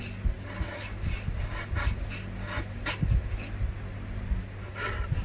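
A wood chisel pares the cheeks of a bridle joint by hand, giving close, steady rasping scrapes that run continuously with short louder strokes, alone without talk.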